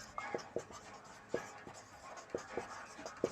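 Pen or pencil writing on paper during a physics lesson, a series of short scratchy strokes and taps in an uneven rhythm, close and quiet, with no voice.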